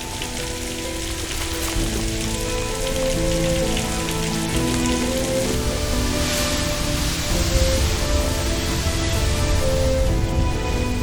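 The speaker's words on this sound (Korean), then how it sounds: "우기인 고비는 비와 함께 짧은 여름을 만난다." Rain falls during the rainy season in the Gobi Desert, a steady, dense patter on the ground that continues evenly throughout, with a faint low hum beneath it.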